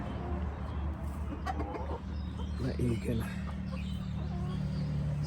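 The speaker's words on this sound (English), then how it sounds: "So I'm not going to go in and disturb the chickens" Chickens cluck softly in short bursts in the background while a person talks briefly.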